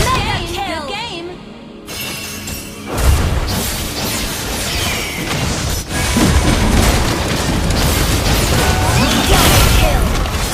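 Mobile battle arena game action with a turret being destroyed: crashing booms and shattering bursts amid dense combat effects, loud and busy, with game announcer voice calls over it.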